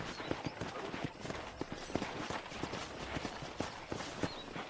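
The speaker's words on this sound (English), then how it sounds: "let's see if you can still ride a horse." Rapid, rhythmic hoofbeats from a horse being ridden in Red Dead Redemption, a steady galloping clip-clop over a background of game noise, with no speech.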